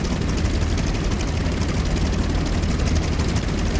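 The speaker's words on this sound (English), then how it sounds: "it just uses the i16 engine sound" A La-7 aircraft engine in the DCS flight simulator, using the I-16's engine sound, drones loudly and continuously with a steady propeller throb, no voices present.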